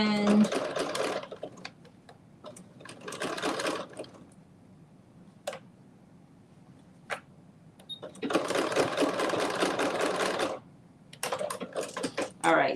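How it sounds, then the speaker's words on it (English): A sewing machine stitching the lining of a fanny pack in bursts of rapid mechanical whirring, separated by quiet pauses, small clicks and soft handling noises. "I'm basically lifting up my bag and just sewing my lining"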